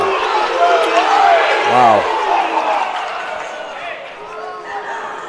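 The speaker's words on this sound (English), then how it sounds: "Frontier crowd here at home, certainly letting the officials know how they feel." Home crowd at a youth wrestling finals match roars and murmurs loudly throughout, voicing displeasure at the officials, with a single voice briefly exclaiming over the noise.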